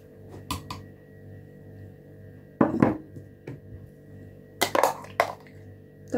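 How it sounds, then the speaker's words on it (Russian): A spoon and dishes clinking in a home kitchen while a pumpkin cake batter is being made, a few separate clattering knocks and scrapes spaced apart over a quiet background hum. "Так, сейчас возьму ложку."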